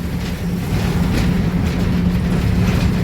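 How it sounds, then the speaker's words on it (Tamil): A train rumbles past at steady volume in Coimbatore, a continuous low grinding roar of rail wagons with no voices. "ரயில் போகுது."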